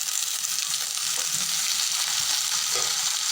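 Chopped potatoes frying in a pan with onion and cumin seeds, giving a dense, loud, continuous sizzle with faint stirring underneath and no talking.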